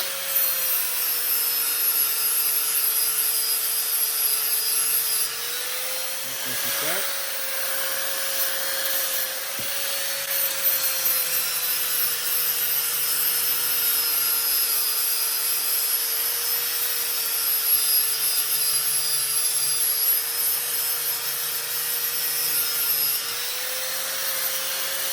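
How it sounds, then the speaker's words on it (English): A small grinding wheel whines steadily and loudly against a push lawn mower blade being sharpened, a continuous high tone with slight pitch dips as the blade is pressed and moved, with no talk. "I like to use a little grinding wheel here."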